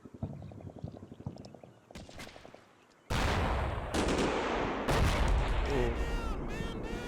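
Bursts of machine gun and heavier gunfire in a WWII-style strategy video game, starting with rapid rattling shots, then a loud, dense barrage of explosions and firing, with a voice briefly heard early on.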